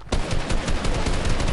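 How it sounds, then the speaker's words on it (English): Rapid gunfire from a PS4 shooter video game rattles in a dense, continuous burst, loud and close, with no talking over it. "He's shooting at me."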